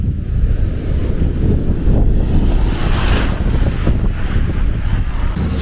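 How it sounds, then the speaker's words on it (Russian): Steady roar of ocean surf washing onto a Maldives beach, buffeted by gusts of sea breeze across the microphone, continuous and fairly loud with no voices. "Здесь у нас волны."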